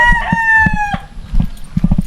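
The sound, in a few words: rooster crowing on chicken farm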